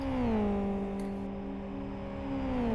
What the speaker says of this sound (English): as does John SVK, and so did Rex, so yeah, that's a train of cars going into the pit lane.